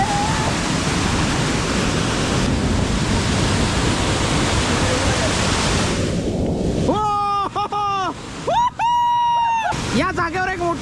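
Dense, steady roar of a rain-fed monsoon waterfall on the Adrai jungle trek in Maharashtra, loud and close; near the end, faint voices and harmonic calls break through the rushing water.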